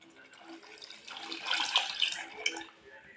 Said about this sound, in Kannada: ಈಗ ಸ್ವಲ್ಪ ನೀರು ಹಾಕ್ಬಿಡೋಣ ಅದಕ್ಕೆ